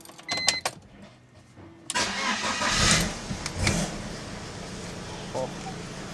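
A hotted-up four-cylinder car engine cranks after a few knocks and brief voices, catches with a burst and settles into a steady, rumbling idle with a couple of light revs, recorded close up.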